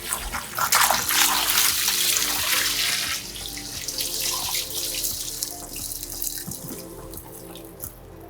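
Water gushes into a 15-gallon cold brew vat, a loud, steady splashing pour close by that thins toward the end, with scattered drips and hollow knocks as the container fills.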